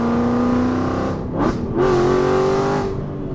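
A naturally aspirated BMW M635 CSi engine revs loudly, holding a steady droning pitch, dipping briefly mid-way, then climbing again in a sustained, growling rev.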